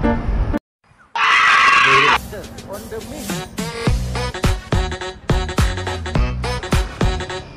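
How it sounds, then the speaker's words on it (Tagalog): A loose horse whinnies loudly near a road, one sharp neigh over steady outdoor noise, then a long stretch of clattering, rhythmic sounds, with no speech. "Ayun, may kabayong nakawala."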